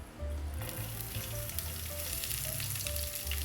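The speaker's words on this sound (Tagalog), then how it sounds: "So, dito magigisa na tayo ng mga panakot." Onion sautés in a pan for pork estofado, a loud dense sizzle that starts abruptly and stays steady, close by with a low background hum and no voices.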